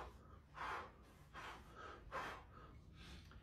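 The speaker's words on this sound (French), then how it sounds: "Et je souffle à chaque fois." Rhythmic sharp exhales through the mouth with each boxing punch thrown during training, four or five forceful breathy bursts in a steady cadence, close and fairly loud with no talking.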